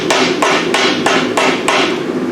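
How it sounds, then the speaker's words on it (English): A ball peen hammer strikes metal during forging in a quick, even series of about seven sharp, ringing blows, close and loud, with no talk. "I am just going to use a ball peen just to sort of start pushing that out"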